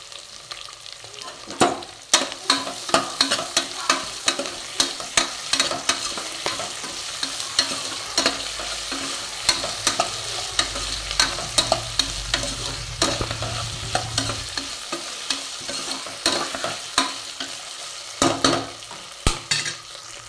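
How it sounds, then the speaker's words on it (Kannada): Onions and potatoes fry and sizzle in oil for a pulao, with a steady crackle under repeated sharp scrapes and clinks of a stirring spoon against the pan; no one speaks. "ಇದು ಸ್ವಲ್ಪ ಫ್ರೈ ಆಗಬೇಕು ಎಣ್ಣೆಯಾಗ."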